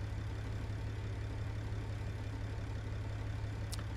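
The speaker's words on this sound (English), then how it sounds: "This truck's running a Caterpillar 3406E." A Caterpillar 3406E truck engine idling in the American Truck Simulator game, a steady low droning rumble held evenly with no change in pitch, close and continuous with no talk.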